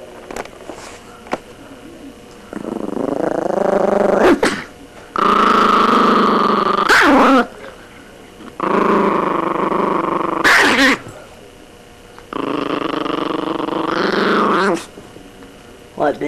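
A dog growls close and loud in four long, rumbling snarls, with sharp barks and yips in between and short pauses separating the bursts.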